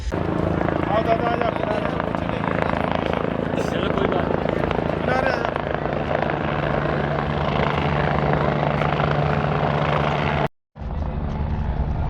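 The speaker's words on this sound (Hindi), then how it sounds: "ये देखिए उनका हेलीकॉप्टर लैंड हो रहा है" A loud helicopter roars close by as it lands, its rotors and engine droning steadily with voices under it, then it briefly cuts out before resuming.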